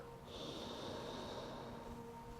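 A single slow breath during a yoga session, a soft airy exhale with a faint hissy rush, close and quiet, alone without talk.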